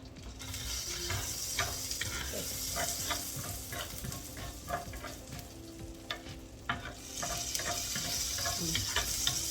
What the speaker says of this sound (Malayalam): ഫസ്റ്റിൽ ഞാൻ കടുക് വറക്കുകയാണ്.